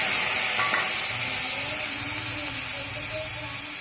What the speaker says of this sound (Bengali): এবার ঢেলে দিলাম জল